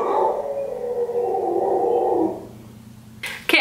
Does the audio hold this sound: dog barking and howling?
yes